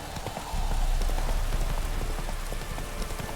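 Horse hooves gallop in The Witcher 3 video game, a quick rhythmic clopping over a steady rain-like hiss, fairly soft and continuous.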